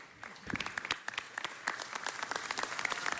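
A city council meeting audience breaks into applause, a short burst of crowd clapping heard moderately close and fairly quiet, building slightly over a few seconds.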